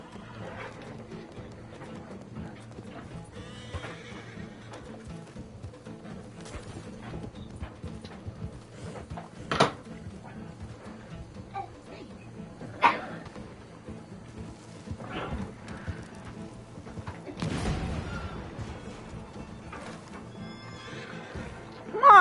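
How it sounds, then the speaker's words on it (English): Horse in the Red Dead Redemption 2 video game, hoofbeats clopping along with neighs and snorts, moderately loud with sharp accents scattered through the run and occasional game sounds. "Come on, horse!"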